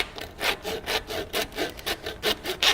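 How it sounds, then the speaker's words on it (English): Hand saw scoring through skull bone during an anatomy dissection: rhythmic back-and-forth rasping strokes, about six to seven in quick even succession, close and clear with no talk. "Take a saw and begin to score through"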